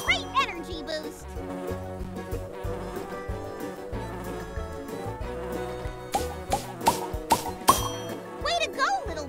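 Cartoon bee buzzing as it flies between flowers, a wavering insect drone heard under a full orchestral music score with bright chimes and dings throughout.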